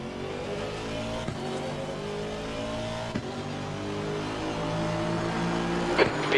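Race cars in a sim-racing endurance event drive past with steady droning engines, a couple of sharper revving bursts standing out against the continuous roar of nearby cars.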